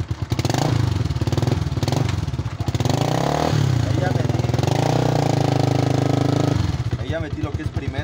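A Yamaha R15 motorcycle engine runs in gear with a starting or transmission fault, a loud close rough throb that rises and falls in pitch, with a brief rattling clatter near the end.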